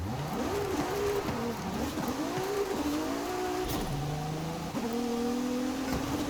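A Ferrari 296 GTB, the V6 hybrid supercar, is driven in the racing game Forza Horizon 5, its engine revving up and shifting through gears with rising and falling tones and brief tire squeal, with no talk over it.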